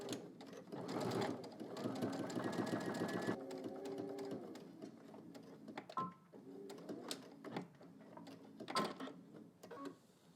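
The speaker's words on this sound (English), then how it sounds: "put that needle just on the right side of that seam onto the lining, and we're going to stitch" Sewing machine stitching a seam allowance down onto a garment lining, close and clear, running in several bursts of rapid mechanical whirring with brief pauses and needle clicks between them.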